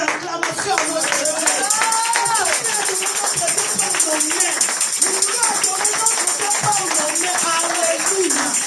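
A church congregation claps in praise to God at a French-language service, with steady, rhythmic applause running beneath loud, excited voices and cheers that dominate throughout.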